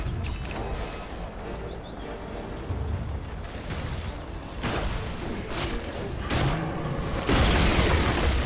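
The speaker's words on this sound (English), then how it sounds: "Radiant's bottom tower is under attack." A tower under attack during an Earthshaker match in a competitive video game, filled with repeated booming impacts, clanking mechanical hits and dense battle effects that build toward the end.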